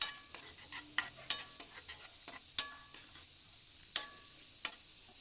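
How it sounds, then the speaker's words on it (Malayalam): Coconut pieces fry in packaged coconut oil while being stirred, giving a faint steady sizzle broken by sharp, irregular scraping clicks of a spoon against the pan. "തേങ്ങാക്കൊത്ത് വറുത്തെടുക്കാം"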